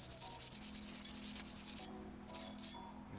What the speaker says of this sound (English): I'm just going to use a little wire brush here, which fits perfectly in these clips here